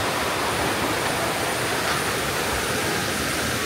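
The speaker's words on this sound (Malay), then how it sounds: "Sungai depan tapak" River flowing in front of a campsite at Lubuk Tengas, a loud, steady broadband rush of water with no breaks and no voices.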